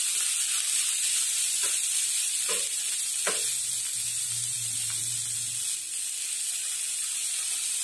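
Steady, loud sizzle and hiss from bamboo shoots adobo in a hot pan after vinegar is poured in, with a few soft stirring knocks and a faint low hum partway through.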